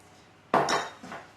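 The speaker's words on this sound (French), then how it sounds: "Et je fouette énergiquement." A whisk strikes a bowl with a sharp metallic clatter, followed by a quick rattling whisk, then a fainter second knock, as milk is beaten into quiche lorraine filling.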